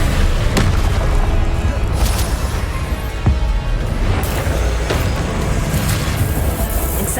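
Hogwarts Legacy duel with the Confringo blast spell: dense, continuous booming explosions and thuds fill the whole stretch, loud and close, with sharp bursts standing out over a rumbling game soundscape.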